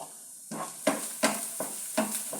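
Onions sautéing in a pan for a leaf thoran are stirred about five times in a steady rhythm, each scrape rising over a continuous close sizzle.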